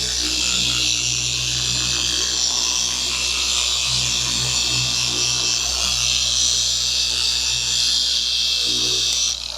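Machine polisher buffing a coating onto a car's paint, a steady close whirring drone with a grainy rubbing texture that runs unbroken throughout, no talking.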